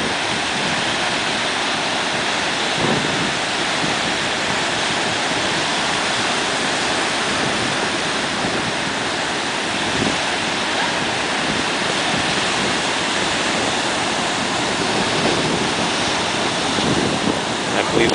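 Ocean surf washes over tidal pools on rocky, shell-covered ground as the tide comes back in. A loud, continuous broadband roar of waves runs the whole time, with wind buffeting the microphone.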